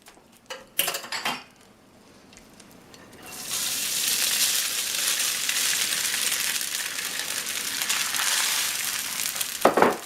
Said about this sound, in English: the first thing I'm going to do is try to fry the rice